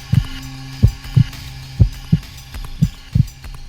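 Heartbeat sound effect for a frightened mouse hiding on a lion's path in a read-aloud telling of The Lion and the Mouse: steady, low, muffled double thumps repeating about six times over a faint hum, with no voices.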